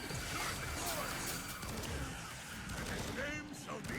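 Automated turrets firing in the online shooter Firefall, a rapid, continuous crackle of gunfire with faint whistling streaks, kept at moderate volume under someone talking throughout.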